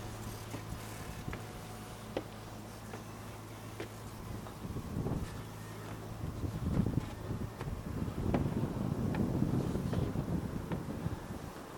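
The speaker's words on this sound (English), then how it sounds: "Got a wind up here too now. It's breezy." Breezy wind gusting at a high lookout above a marina, a steady rushing buffet across the microphone that swells louder in the second half, with no talking.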